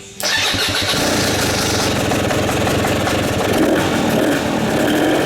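A 300 two-stroke dirt bike engine, freshly fitted with a new head and piston, fires up almost at once and runs loud and close, a continuous raspy idle holding steady for about five seconds.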